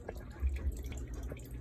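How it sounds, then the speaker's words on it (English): Water drips steadily from a leaking hot water heater, a run of soft, close drops over a low indoor rumble, with no talking. "the hot water here got a leak in it."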